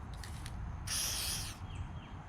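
A short aerosol burst of degreaser sprays onto a KS Lev Si bicycle dropper post, a close hiss lasting under a second amid quiet background noise.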